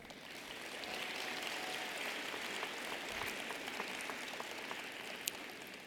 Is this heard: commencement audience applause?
yes